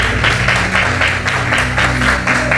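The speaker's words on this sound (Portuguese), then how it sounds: "Uma salva de palmas pela vida do Raul." A church congregation gives a round of applause during a Pentecostal-style service, a loud, steady wash of clapping with a regular pulsing rhythm lasting throughout.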